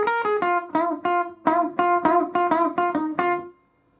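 Blues electric guitar lick, a run of about ten picked notes with string bends and vibrato, clear and close with no talking, ending in a sustained note that fades out.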